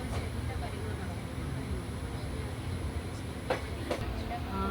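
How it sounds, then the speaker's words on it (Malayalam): A crowded passenger train rolls into Thiruvananthapuram Central railway station with a continuous low rumble and rattling carriages, and voices murmur faintly over the steady noise. "ഇപ്പം ട്രെയിൻ തിരുവനന്തപുരം സെൻട്രലിലേക്ക് എത്തിക്കൊണ്ടിരിക്കുകയാണ്."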